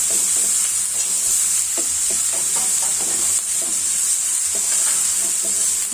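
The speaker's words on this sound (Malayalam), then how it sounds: "സവാള നമ്മളൊന്ന് വാട്ടിയെടുക്കണം" Sliced onions sauté in a pan for a greens stir-fry, giving a loud, continuous sizzling hiss up close with soft scraping stirs breaking through now and then.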